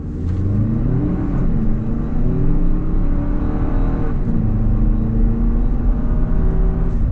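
A 2026 Toyota Highlander XLE AWD with an eight-speed automatic accelerates from a stop, its engine droning steadily and rising in pitch through the gears, heard continuously from inside the cabin with no talking.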